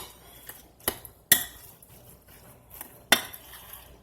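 Seasoned meat filling for Filipino egg rolls being mixed in a bowl, soft squelching broken by a few sharp utensil clinks against the bowl, close and unaccompanied by talk.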